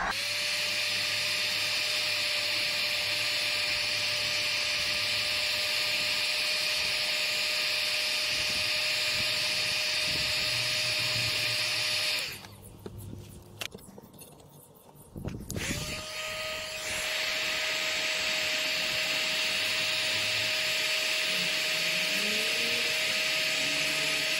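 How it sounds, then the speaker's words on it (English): A loud, steady whine and roar of a heat gun blowing hot air runs continuously, cutting off briefly partway through before starting up again. "now this is a heat gun it's not a blow dryer"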